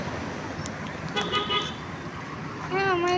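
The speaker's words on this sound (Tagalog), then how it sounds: "Ang daming nagdadaan kotse." Heavy traffic of cars and buses passing on the one-way Andaya Highway, a steady road roar under voices in the local language, with a brief horn toot near the end.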